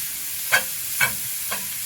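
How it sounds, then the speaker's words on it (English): Ground pork browns in a pan with a constant close sizzle. Three evenly spaced scraping stirs break through it, with no talking. "let this ground pork brown"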